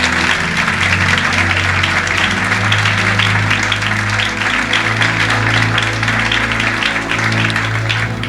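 A church seminar congregation applauds and cheers steadily for several seconds, a dense wash of clapping from a large crowd with some faint voices mixed in.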